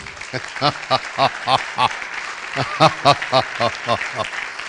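A class audience claps in a steady rhythmic pattern of loud, evenly spaced bursts, with voices mixed into the clapping throughout.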